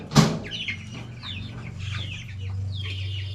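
35-day-old chickens clucking close by, with short chirpy calls scattered over a low steady hum and a sharp burst at the start.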